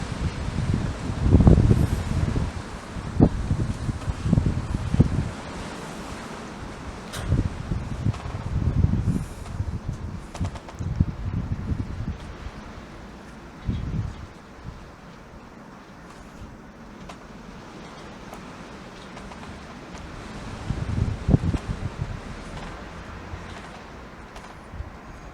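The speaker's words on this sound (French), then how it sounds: "Alors, les rafales deviennent plus puissantes." Strong wind gusts of a winter storm in Loudéac, rushing and buffeting in uneven surges with rustling and a low rumble, louder bursts early and again near the end.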